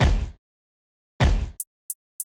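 Two deep, booming drill-beat kick drum hits with long decaying tails, spaced apart, followed by three quick, crisp hi-hat ticks in an even rhythm.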